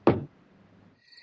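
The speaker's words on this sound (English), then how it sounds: "waiting for Woody, who came knocking on the door" A single loud, close knock on a door, a quick thud that dies away into near silence.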